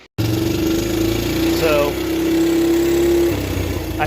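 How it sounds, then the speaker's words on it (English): A Suzuki Quadrunner LT125/LT185 ATV engine runs up close at a steady idle, a loud continuous putter with a droning hum, while someone talks briefly over it. "But now, we're idling and running."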